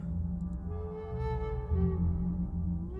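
A bat sound from the point-and-click game Barrow Hill: a soft, sustained ringing with a slowly bending pitch and a couple of faint high ticks at the start, over a low humming ambience.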